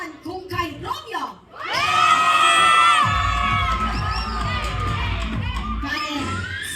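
A wedding event audience erupts in loud, sustained shouting and cheering with high children's voices and whoops, following a brief stretch of a host talking.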